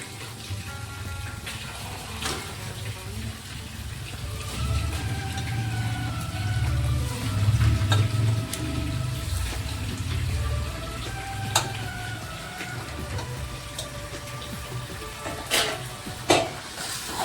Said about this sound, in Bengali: আমি এখন ভালো করে চিকেনটা কষে নেব।